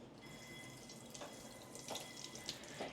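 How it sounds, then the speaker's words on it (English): Tap water running into a pan at a sink, a continuous soft gushing stream with small splashes and drips, fairly quiet and close, no talking. "So I'm gonna go ahead and get my pan wet."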